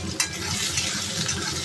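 Onions hit hot oil tempered with fenugreek and bay leaf, a loud close sizzle with stirring that runs through the whole brief moment.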